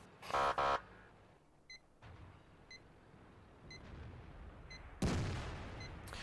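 Heavy tank cannon blasts from a video game, one burst near the start and another loud boom later, with faint electronic beeps sounding at regular intervals in between.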